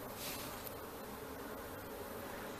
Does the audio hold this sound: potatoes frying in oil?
no